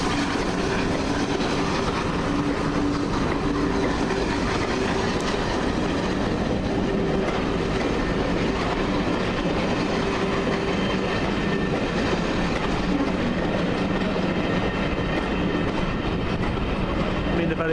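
A Class 08 shunter locomotive rumbles steadily along the rails at Bristol Temple Meads while shunting, with a continuous low clatter and occasional faint tonal whines, close and sustained throughout.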